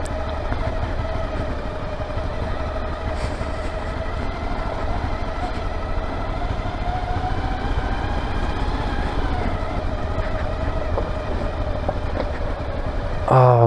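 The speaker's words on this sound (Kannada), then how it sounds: "first ಗೇರಲ್ಲಿ engine breaking, clutch use ಮಾಡು ಅಷ್ಟೇ" An off-road vehicle descends a steep downhill trail in first gear under engine braking, its engine droning loud and steady throughout, with a brief louder burst at the very end.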